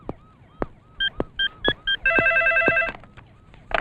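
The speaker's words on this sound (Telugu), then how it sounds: "సార్, మీకు ఫోన్." A telephone rings in a dim office, a few short separate rings followed by one long sustained ring, loud and close with no talk over it.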